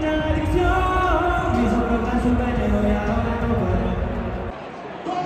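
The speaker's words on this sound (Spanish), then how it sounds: "No entiendo a los abucheos" A dense arena crowd at a boxing event fills the space with a sustained, loud roar of booing and mixed voices, steady throughout and dropping off slightly near the end.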